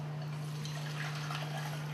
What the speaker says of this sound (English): now I'm just going to drain them off